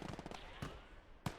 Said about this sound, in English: Do get a nice nade there for one